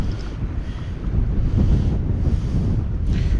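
Steady wind buffets the microphone outdoors while fishing in October, with a low, rumbling roar that swells and eases throughout, with no voices.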